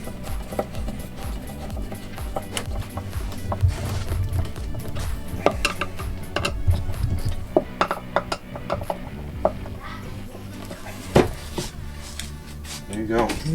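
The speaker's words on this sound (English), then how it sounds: "And you tighten them in." Screws being tightened into cabinet drawer hardware, a handle fastened through pre-drilled holes, producing a run of small ratcheting, clicking mechanical ticks and light knocks at close range, with a low hum beneath and occasional talk.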